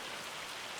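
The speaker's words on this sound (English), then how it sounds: "It's unfortunately raining in game" In-game rain in Farming Simulator 25, a soft, even hiss of rainfall on surfaces that holds steady and fairly quiet throughout, with no voices.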